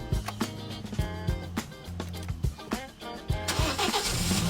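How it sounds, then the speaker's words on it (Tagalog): A used car's engine starting with repeated cranking bursts before catching and settling into a loud, close idle that rises into a brief rev. "Pwede mo i-start bro kung gusto mo para makita natin yung makina."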